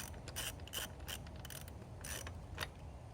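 A wrench ratchets in quick, close clicking bursts as a bolt is tightened on a Sur-Ron Ultra Bee electric dirt bike, with short pauses between the strokes.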